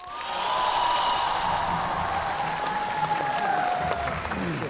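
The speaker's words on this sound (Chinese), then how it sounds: "也用你们的掌声欢迎两队回来" An audience at a basketball game applauds steadily as the teams return to the court, sustained clapping and crowd noise with a voice calling out over it.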